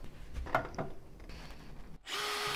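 A few scattered knocks and scrapes, then a power drill whirs steadily, driving screws into wood for alcove shelves near the end, close and fairly loud.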